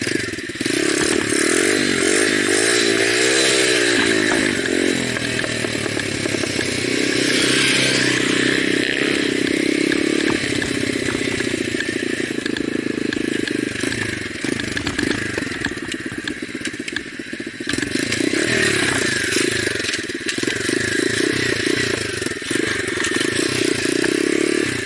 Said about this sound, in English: you can try and get your wheelie a little bit longer